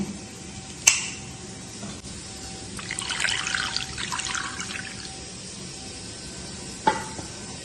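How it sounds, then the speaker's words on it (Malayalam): Sardines are rubbed with salt and rinsed under running tap water in a Kerala kitchen, a soft splashing rush lasting a few seconds, framed by two sharp clicks and a faint steady hum. "നല്ലതുപോലെ ഉപ്പിട്ട് 2-3 പ്രാവശ്യം ഉപ്പിട്ട് തിരുമ്മി കഴുകി കളയണേ"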